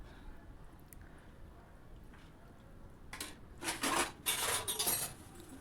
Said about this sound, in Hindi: तो यहाँ पर मैंने फटाफट से अपने बर्तन साफ़ कर लिए हैं।